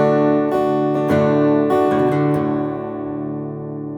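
Guitar playing the intro to a song: a bass note on the open A followed by strummed chord hits, several rhythmic strums ringing close and clear before fading out, with no talking.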